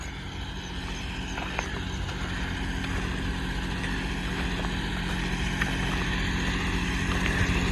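A John Deere 5310 4x4 tractor engine idles steadily at about 1700 rpm with no load, giving a continuous, even, close-up droning hum with no voices.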